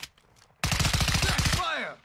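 Rapid automatic gunfire from a shooting video game bursts in suddenly after a quiet moment, a loud dense rattle of shots for about a second, then fades out with a falling tail.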